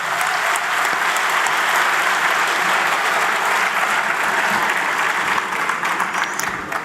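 A large crowd clapping for the organizer at an Urdu and Hindi poetry recital, dense sustained applause that stays loud and even for nearly seven seconds before tapering slightly at the end.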